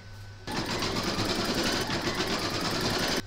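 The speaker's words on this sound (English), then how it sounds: "Pop your hoop into your machine and stitch round number two." An embroidery sewing machine stitches batting held in a hoop, starting after a brief quiet moment and then running as a steady, close, fast mechanical whir with rapid needle rhythm and no talking.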